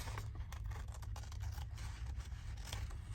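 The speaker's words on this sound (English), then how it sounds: "just cut along your crease" Scissors cut along a creased fold in card for a Christmas gift bag, giving a steady run of faint, close crisp snips and scraping slides with no talk.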